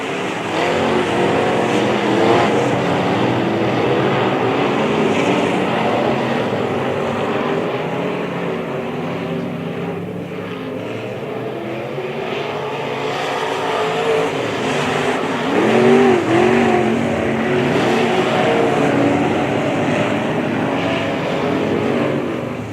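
B Modified race cars circle the oval at Springfield Raceway during a heat race at the Turkey Bowl, engines roaring loud and continuous with rising and falling passes as the pack sweeps through turns three and four.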